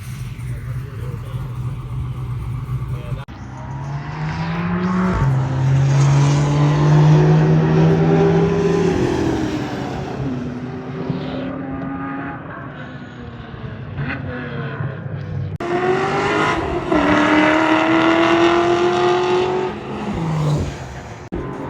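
Loud engines roar and rise through gear changes as race cars speed past at a time attack event at Atlanta Motorsports Park, pitch sweeping up and dropping repeatedly in steady, close passes.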